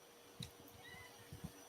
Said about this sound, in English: Can you guys hear my cat meowing?